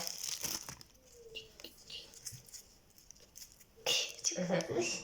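Plastic New Year gift bag crinkling and rustling in handled bursts, loudest toward the end, with people talking softly nearby.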